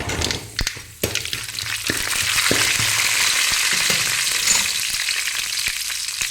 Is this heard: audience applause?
no